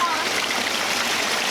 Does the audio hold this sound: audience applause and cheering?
no